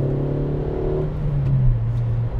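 A Suzuki Swift Sport engine hums steadily from inside the car, a low continuous drone whose pitch shifts slightly as the revs change, with no voices.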